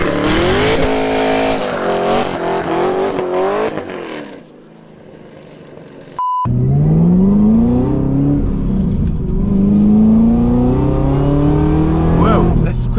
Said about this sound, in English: that's just a real strong second gear pull